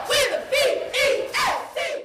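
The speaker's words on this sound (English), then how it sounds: "students cheering on the big announcement" Crowd of high school students at a celebration letting out repeated loud cheering shouts in five bursts, each rising then dropping in quick succession.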